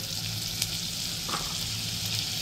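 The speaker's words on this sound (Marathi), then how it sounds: "तेलही तापले, त्याच्यामध्ये थोडंसं आपण बटर घेणार आहे। बटर टाकून घ्यायचं थोडंसं।" Butter sizzles in hot oil in a frying pan while egg ghotala is being prepared, giving a quiet, steady frying hiss with a few faint crackles.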